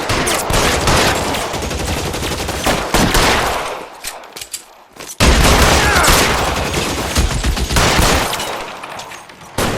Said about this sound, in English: Try shooting someone with a gun of his own.